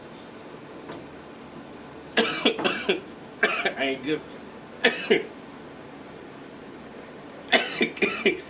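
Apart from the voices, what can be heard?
coughing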